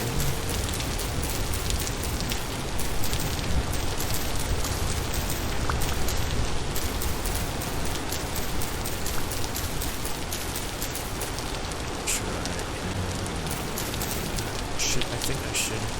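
Steady rain falls in the Vintage Story survival game, a dense, even patter on surfaces that runs unbroken from start to finish with no voices over it.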